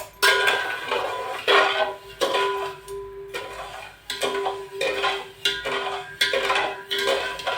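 Sugar being stirred in a metal pan while making syrup for rava ladoo: repeated scraping and clinking strokes of a spoon against the pan, in steady bursts with short pauses, close and fairly loud.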